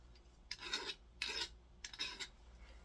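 A file rasping a chamfer onto the edges of a brass bullet, heard as three separate short scraping strokes, close and quiet, with pauses between them.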